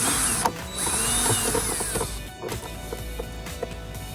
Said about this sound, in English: Now I'm gonna secure them with the drill.